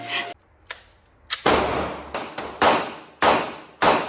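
A CZ P10C pistol fires a string of about seven sharp, loud shots in uneven rhythm, each cracking close with a short ringing decay, with no talking.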